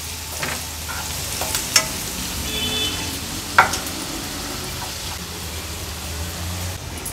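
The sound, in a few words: onion frying in a pan on low flame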